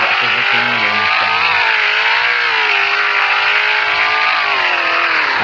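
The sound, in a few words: car driving in Roblox video game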